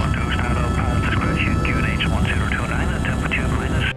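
A Greenlandair helicopter in flight toward Ittoqqortoormiit in Greenland gives a loud, steady engine and rotor drone that lasts the whole clip, with people talking over it.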